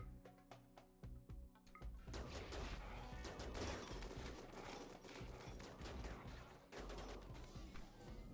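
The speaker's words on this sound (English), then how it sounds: "Stop shooting, Centipede." A Centipede mech fires in RimWorld, with rapid bursts of gunfire crackling over several seconds. The volume is very low, and sharp isolated shots come before a denser fusillade.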